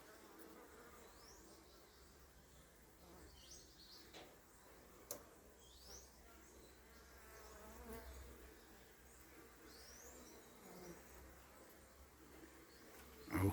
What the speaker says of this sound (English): you might be able to hear the sound of the bee body bouncing against this piece of styrofoam